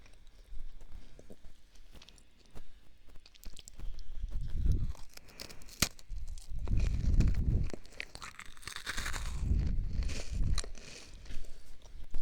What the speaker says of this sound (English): These are Chips Ahoy cookies.